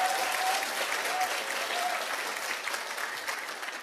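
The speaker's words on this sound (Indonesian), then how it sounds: "tepuk tangan dong" Seminar attendees at a Tiens business talk give a sustained round of clapping, an even, moderately distant wash of many hands with a faint tonal whine running beneath it.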